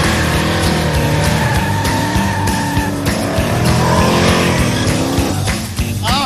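A hot rod engine with a blower runs loud and steady at a rough, lumpy idle, with deep pulsing throb and a metallic whine overhead, close up, with no talk.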